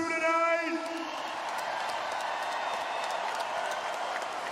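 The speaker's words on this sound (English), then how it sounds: "another round of applause for these two tonight" A crowd at a boxing match applauds the two fighters after the bout, a steady diffuse clapping and murmur following a brief tone at the start.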